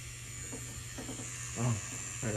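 A battery-powered tattoo machine fitted with a round liner needle keeps up a steady electric buzz with faint mechanical clicking, and it sounds like it is bogging down. Brief voice bursts sit over it.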